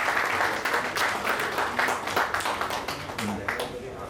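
Audience at the Baroda Road Transport Association AGM meeting clapping steadily, a dense, even patter of many hands with faint voices underneath throughout.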